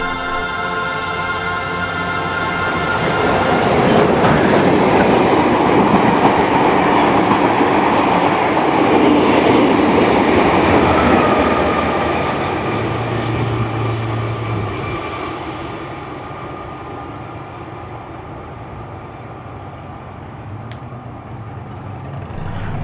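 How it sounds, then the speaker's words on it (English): Heritage steam locomotive 3801 runs near Hurstville, New South Wales, during mechanical and crew testing in 2020, producing a loud, continuous rumble with clattering wheels that swells, holds and gradually eases off as it passes. "We also saw the locomotive returning from Hurstville on Sunday, September 27, 2020, during its 6 days of mechanical and crew testings."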